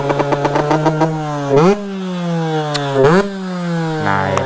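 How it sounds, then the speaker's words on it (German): A supermoto motocross bike rides on a street in Italy, its engine droning loudly then rising in pitch through two quick upshifts, the revs climbing and dropping with each gear change, close to the listener. "It's so crazy that you are riding motocross bike on the streets."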